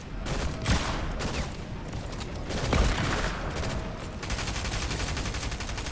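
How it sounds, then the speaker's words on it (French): Gunfire in the video game Fortnite, with rapid bursts and a continuous fusillade of shots, dense and fairly loud, with no voice over it. "Ça tire de partout."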